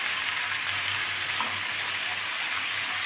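Drumstick stalks (Katwa data) sizzle steadily in a hot pan for a mustard-paste chorchori, a loud, even, hissing fry that holds without a break.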